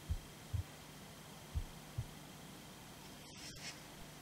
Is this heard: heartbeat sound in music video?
yes